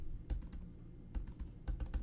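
Fast bursts of typing on a computer keyboard, close and clear, with clustered key clicks separated by short pauses and no talking.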